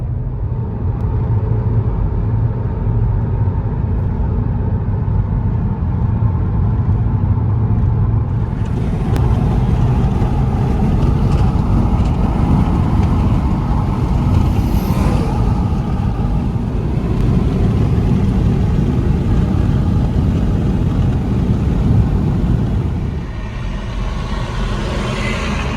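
A 2021 Hyundai Elantra SEL with a muffler delete, its exhaust giving a loud, continuous droning rumble while driving, the engine note rising and brightening partway through, close and alone.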